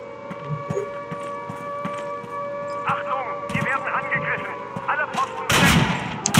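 Rapid video game gunfire crackles in bursts over a steady tonal game soundscape, with a loud cluster of shots near the end and a voice calling out during the action.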